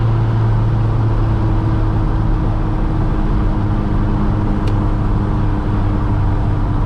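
A Mk2 GTS race car with a 16-valve turbo VAG engine drones steadily from the cabin during driving, a loud, constant low hum with stable harmonics and no talk.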